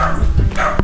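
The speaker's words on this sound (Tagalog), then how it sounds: "Ang daming aso dito, dumami yata." Several dogs barking outdoors at a rural property, a short loud burst of barks close by, with no talk over it.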